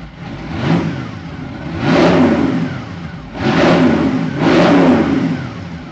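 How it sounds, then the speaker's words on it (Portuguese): A Boss Hoss motorcycle with a 508-horsepower V8 engine revs hard in four loud, swelling bursts with short dips between them. It is close and clear with no talking. "A Boss Hoss topo de linha possui um motor V8 de 508 cavalos a"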